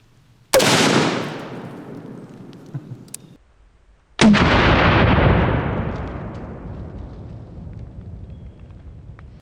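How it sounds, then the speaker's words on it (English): Two loud, sharp 5.56 rifle shots from a Daniel Defense Mark 18 fired into pumpkins outdoors, each a sudden crack followed by a long rolling echo that fades over several seconds. "we're shooting it out of my Daniel Defense Mark 18"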